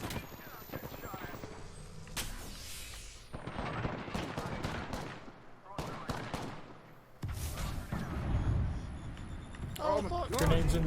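Video game gunfire rattles in repeated bursts through a battle-royale firefight, with several players talking excitedly over the shooting.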